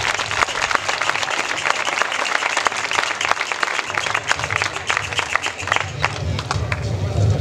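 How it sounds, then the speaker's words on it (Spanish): A crowd applauds at a tamborilero (pipe-and-tabor) competition in Guadramiro, with dense, steady clapping throughout and some murmuring voices underneath. "Un aplauso para ellos."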